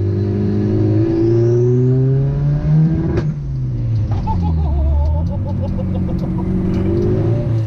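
A turbocharged Honda Integra engine revs steadily near its rev limiter, set around 5,000 rpm, a loud continuous drone with brief stutters and pops from the limiter.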